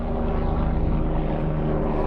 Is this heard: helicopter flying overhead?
yes